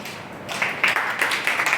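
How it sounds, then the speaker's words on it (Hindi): A class claps for a student during a CA Inter tax lecture on capital gains, a short burst of scattered hand claps in a room, rising to a few louder peaks. "तो पहले तालियां बजा दो सिद्धि के लिए।"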